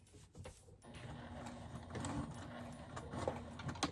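A sewing machine stitches a pocket onto a tote bag embellished with vintage linens, giving a quiet, rapid mechanical chatter that runs throughout, close by, with no voices.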